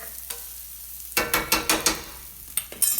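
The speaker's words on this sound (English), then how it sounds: "this is just kind of sauteing up. I got it on high to get it done pretty quick." Stuffed quahog filling being sautéed on high heat in a pan, with a quick run of rhythmic spatula scrapes and stirs over a faint sizzle, then a few more strokes, close and clear, with no talking.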